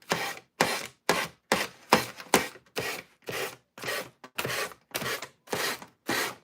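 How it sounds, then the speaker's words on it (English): Wood furniture being sanded by hand in a quick, even rhythm of about a dozen close, rasping back-and-forth strokes with short gaps between them and no talking. "let's try to sand this off here"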